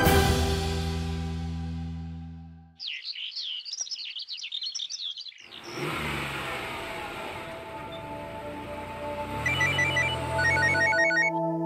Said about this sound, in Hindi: आशिका का फोन क्यों आ रहा है?